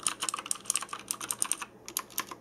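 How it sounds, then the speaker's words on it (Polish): Mechanical gaming keyboard with Blue-type switches from a Thermaltake Tt eSPORTS gamer set, clicking sharply in fast irregular bursts of keystrokes, close and crisp with brief pauses between runs. "Zobaczcie przy okazji, jak te przełączniki typu Blue sobie pracują."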